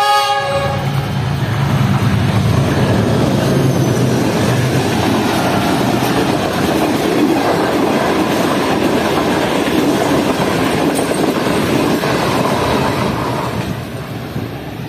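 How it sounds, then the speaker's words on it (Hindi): The short 6 Down Green Line Express crosses through Gujrat railway station on a single line at good speed: a brief horn blast opens a loud, continuous rumble and clatter of wheels that stays near, then eases slightly at the end. "गुजरात रेलवे स्टेशन पर 6 down green line express overtake कर रही है"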